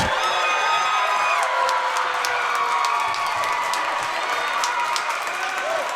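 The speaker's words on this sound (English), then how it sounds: "this crowd reacts joyously" Girls' volleyball crowd at a Los Altos vs. Mountain View match erupts after Mountain View takes the third set: sustained dense applause, cheering and whoops filling the gym, loud and continuous throughout.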